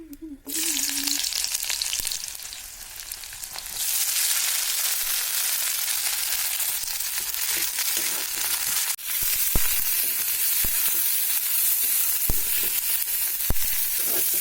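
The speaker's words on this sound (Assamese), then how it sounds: "আৰু এতিয়া এইফালে তেল পকি গৈছে। এতিয়া পিঁয়াজ দিম।" Steady, loud sizzling of onion frying in hot oil, a continuous crackling hiss with occasional sharper pops up close.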